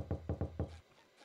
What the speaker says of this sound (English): you can hear his little squeaks of his feet.